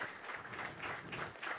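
An audience at a felicitation ceremony during a conference on farmer prosperity applauds softly, a faint, continuous patter of many hands clapping heard from some distance.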